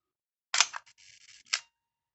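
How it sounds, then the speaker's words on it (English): A Werra 1 35mm zone-focus camera's self-timer whirs and clicks briefly, close and quiet, with a sharp click at the start, a soft mechanical buzz running, and a final shutter snap. "That must be set to self-timer."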